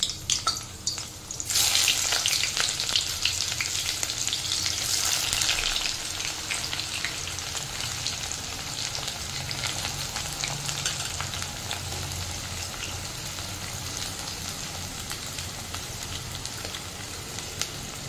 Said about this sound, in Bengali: তেলটা গরম হয়ে গেছে, এবার আমি একে একে বেরেস্তাগুলো দিয়ে দিচ্ছি।